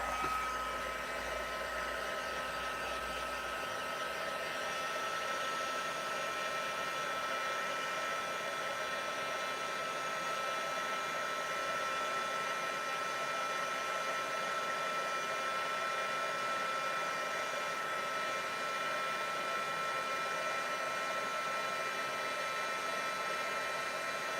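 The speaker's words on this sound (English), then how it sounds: "So I'm bringing in my heat tool and we'll just set that." A heat tool blows a steady, loud whooshing stream of hot air to set white embossing powder on vanilla cardstock, a continuous hairdryer-like roar without speech.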